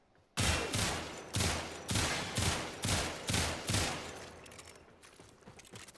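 Sicarus Prime pistol fired without mods in the Warframe video game: six loud, evenly spaced burst shots in quick succession, each with a sharp attack and short decay, followed by fading echoing tails and faint clicks.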